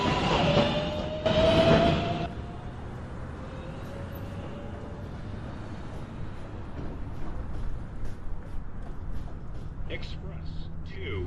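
A New York City subway express 2 train at 207th Street rumbles steadily along the track, with a loud burst of noise at the start and faint squeals, while a station announcement voice talks over it.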